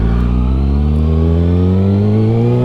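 A motorcycle engine accelerates on the road, close and loud, its pitch rising steadily as it pulls away, with no talk.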